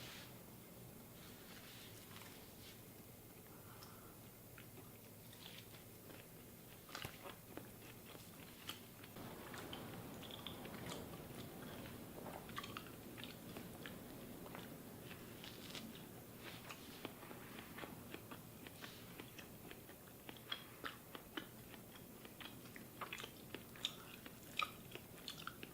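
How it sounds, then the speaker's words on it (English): Raw ribeye steak is chewed slowly and thoroughly. The soft, wet, repeated bites and mastication are quiet and close, continuing steadily for nearly half a minute with no talking. "Just for the sake of digestion, I do usually try to chew it pretty well."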